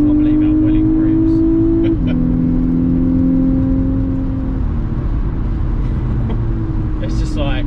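A Mk6 Volkswagen Golf R accelerates hard from inside the cabin, a loud steady engine drone rising with a gear change near two seconds, tyre and road roar underneath throughout.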